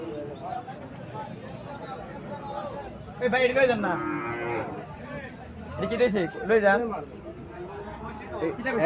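Calves at the Chouara cattle market in Cumilla lowing in a couple of drawn-out moos amid a murmur of people talking nearby.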